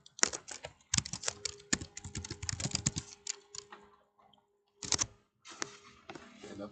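Rapid clattering keystrokes on a computer keyboard come in dense bursts with short pauses, close and fairly loud, along with a faint steady tone.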